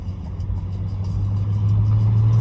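A Cadillac CTS-V pulls away with a steady, loud engine rumble that builds slightly as it drives off, heard from close by without speech.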